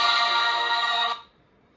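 LGT lightsaber hilt soundboard playing a soundtrack, a thin, bright tinny melody from a small speaker, heard briefly alone before it stops abruptly.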